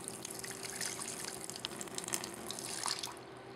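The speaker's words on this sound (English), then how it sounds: "You can see now the water is backing up more than it did before, getting in the yards," Floodwater backing up into residential yards near houses and slowly draining away, heard as a steady trickling, running flow with faint splashes and drips throughout.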